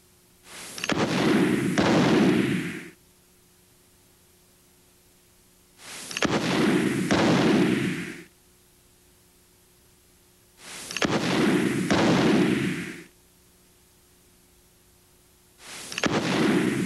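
Handgun fired in double taps at a target, four evenly spaced pairs of sharp loud shots, each pair ringing out briefly before quiet returns.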